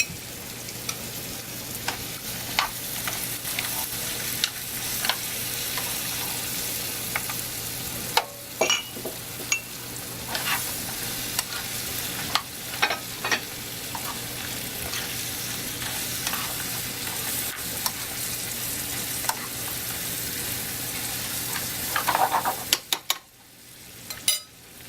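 Lobster roe mixed with olive oil cooks in a pan, giving a continuous sizzle broken by frequent scraping and clicking stirring strokes over about twenty-five seconds, with no talking.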